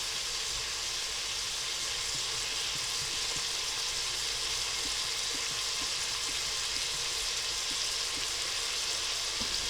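Onion frying in a Cosori pressure cooker, a steady dense sizzle and hiss throughout with faint stirring scrapes, close and even, without talking.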